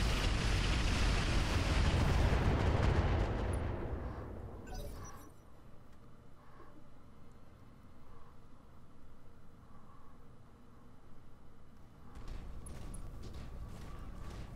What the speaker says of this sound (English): watch all the missiles coming down on him